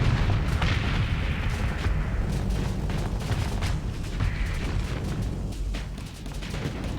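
Missile volleys and weapons fire in a Starsector space battle, with dense continuous booms and rumbling blasts that stay loud throughout and never let up.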